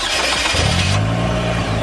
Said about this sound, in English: So just go ahead and put it inside the ignition, and then you turn it on